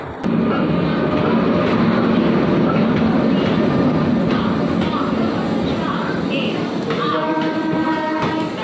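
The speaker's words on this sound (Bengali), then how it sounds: "13141 শিয়ালদা থেকে নিউ আলিপুরদুয়ার পর্যন্ত তিস্তা তোরসা এক্সপ্রেস আমাদের নৈহাটি জংশনে এসে উপস্থিত হয়েছে" The 13141 Teesta Torsa Express from Sealdah to New Alipurduar pulling into Naihati Junction, a loud, steady rumble of rolling coaches with rail squeals, and station voices faintly mixed in.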